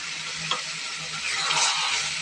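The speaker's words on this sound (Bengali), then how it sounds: "কত সুন্দর করে চিকেনটা রান্না হচ্ছে" Chicken sizzles in a pan with a splash of water and a little lemon juice, a steady broadband fry with a few stirring scrapes, growing slightly louder toward the end, no voices.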